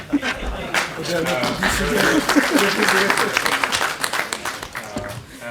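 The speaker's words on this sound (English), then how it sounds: "We thank both of the ministers with a round of applause" After a lecture by a minister, an audience breaks into sustained applause, a full, dense clapping that swells and then eases, with a voice speaking underneath it.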